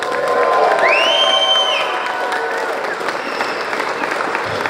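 An audience at a 24 Hours of Lemons racing awards ceremony applauds and cheers in a steady, dense wash of clapping, with a rising whoop or whistle early on and crowd voices mixed in.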